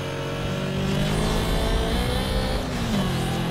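In Need for Speed Most Wanted, a car engine roars at full throttle during a police-pursued race, a loud continuous drone with its pitch rising and then briefly dipping at a gear change.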